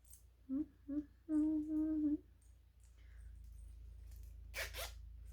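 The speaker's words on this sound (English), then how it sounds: "take the zip off, crack it, and then put the zip back on so that it's sealed" A zipper on a wristlet sewing project is slid off and put back on, several short rasping zips in quick succession followed by a brief louder rustling pull, close up in a quiet room.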